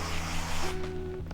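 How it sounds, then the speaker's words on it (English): Cooking oil spray goes into cake pans lined with parchment in a home kitchen: one close, brief burst of hiss lasting under a second, over a low background hum. "Get your spray oil. Do a quick little zhuzh of that."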